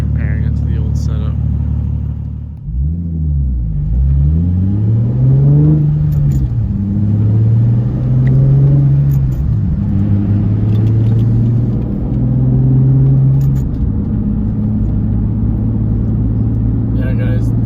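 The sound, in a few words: Nissan Z car engine with new Tomei exhaust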